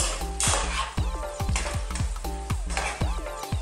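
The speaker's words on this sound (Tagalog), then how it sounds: "Stir natin siya ng mga ilang minuto." A utensil stirs adobong sitaw, long beans with chicken, in a pan with a little water, giving rhythmic clacks and scrapes roughly twice a second over a soft sizzle, close up and with no voices.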